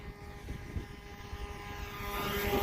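An RC plane's propeller engine at about half throttle drones faintly from a distance, swelling slightly as it flies, with no talking.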